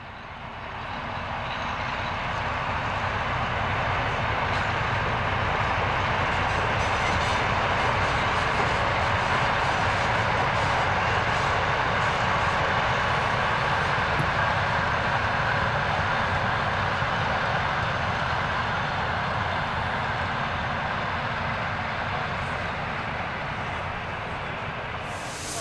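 An express locomotive with a distinctive, imposing shape runs on DB tracks, making a loud, continuous broadband rumble that holds steady for the whole stretch, swelling slightly and easing toward the end, with no talking.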